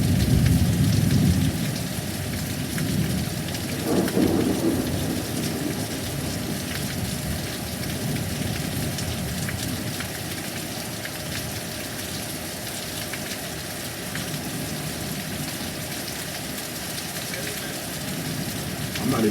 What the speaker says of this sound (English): This storm is more entertaining right now.